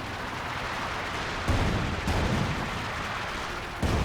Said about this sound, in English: Nick is now pounding him with light artillery barrage